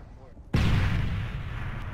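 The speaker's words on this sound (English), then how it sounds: "Yeah, I shot him too." A single sharp, loud gunshot blast in a shooter video game erupts suddenly and rings out with a long, heavy decaying rumble.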